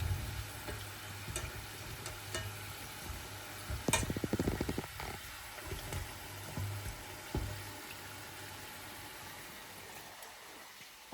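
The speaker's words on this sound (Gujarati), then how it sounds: "તળાઈ છે સમોસા મસ્ત કલર આવ્યો છે સમોસાનો" Samosas deep-frying in a pan of hot oil give a steady, fairly quiet sizzle and bubble throughout, with a few louder crackling bursts near the middle and no voices.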